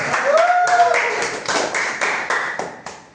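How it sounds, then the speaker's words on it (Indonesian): A class claps hands together in a classroom, a series of short sharp claps over about three seconds with a brief whistle-like tone near the start and voices murmuring underneath. "Tepuk tangan ya"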